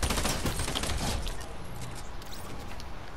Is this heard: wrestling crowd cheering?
no